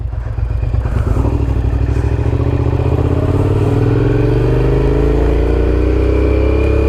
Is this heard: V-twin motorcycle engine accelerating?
yes